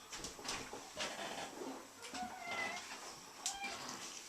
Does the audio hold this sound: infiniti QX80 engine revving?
no